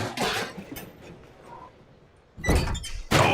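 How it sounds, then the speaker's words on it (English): A trash can cracks against a wrestler's head in a wrestling video game: two loud, hollow metallic thuds about a second apart, each ringing briefly after a quieter stretch of faint game ambience. "you can hear the echoes of that trash can to the skull"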